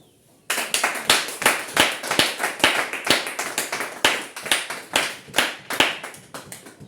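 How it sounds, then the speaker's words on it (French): A congregation claps together after being told to cheer for themselves, sharp hand claps starting suddenly and continuing in a fast, uneven burst at close range with no talking over them. "Acclamez pour vous-même."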